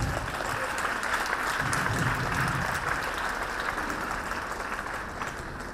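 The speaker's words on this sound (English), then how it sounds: "A round of applause, girls." Steady, dense applause from an audience of students for a prize winner at a college farewell ceremony, sustained and even throughout.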